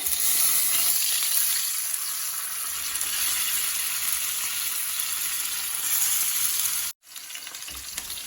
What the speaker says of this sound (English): Fry the remaining fish in a similar manner.